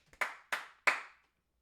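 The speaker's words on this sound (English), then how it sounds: "I summon her with 3 claps." Three sharp hand claps in a quiet room, evenly spaced about a third of a second apart, each crisp and fairly loud with a short decay, with no talking.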